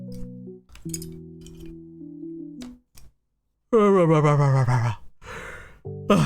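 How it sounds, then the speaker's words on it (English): A single drawn-out yawn from a person, rising into a loud, strained vocal stretch in the middle, with soft breathing and brief quiet sighs around it in an otherwise quiet room. "Sorry, I have to yawn."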